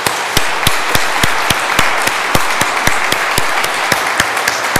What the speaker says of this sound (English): an applause of gratitude for our young musicians